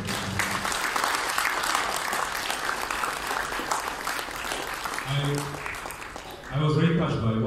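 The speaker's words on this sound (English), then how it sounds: "Can we give a round of applause to Happy Charity Association?" Applause from a luncheon audience at a charity association event: dense, steady clapping from many hands throughout, easing slightly near the end before a louder burst.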